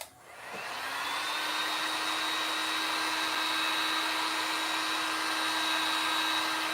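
A hair dryer blowing on glow-in-the-dark paint, switching on and then holding a steady, loud whine and rush of air close by for several seconds, with no voices.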